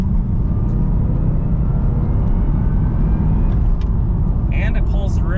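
A 2011 Cadillac CTS-V with a supercharged 6.2-litre LSA V8 and six-speed automatic, heard from inside and accelerating hard from a 50 mph roll, with a loud, sustained engine roar and rising whine, a voice briefly over it near the end.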